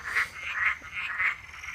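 Nocturnal green frogs croak at night in a steady rhythm, four or five bright, rasping pulses repeating roughly every half second, close and clear with no talking.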